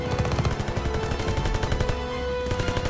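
Dense, continuous gunfire in the D-Day mission of Call of Duty: WWII on PS4, rapid machine-gun bursts and rifle shots overlapping loudly throughout with no gaps.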